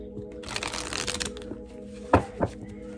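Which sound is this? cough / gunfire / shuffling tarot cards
shuffling tarot cards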